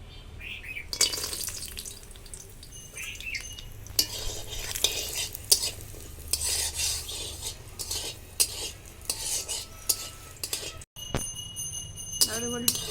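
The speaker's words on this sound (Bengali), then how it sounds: "তেল গরম হয়ে গেছে, এখন আমি কিছুটা ডালের বড়ি ভেজে নেব।" Lentil nuggets (dal bori) fry in mustard oil, giving a steady close sizzle with scraping stirs and utensil clinks, while faint birds call in the background; the sound cuts off briefly near the end.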